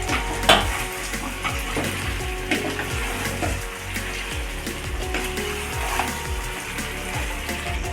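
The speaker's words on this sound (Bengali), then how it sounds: "এবার আমি এতে দিয়ে দেব ভেজে রাখা আলুগুলো।" Fried potatoes go into a pan of mutton curry and are stirred, giving a busy sizzle with scraping and clanking of the spoon against the metal pan, close and steady.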